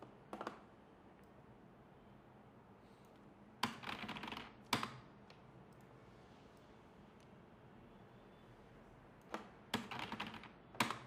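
Computer keyboard typing out a web page address, faint sparse clusters of key taps separated by long quiet gaps.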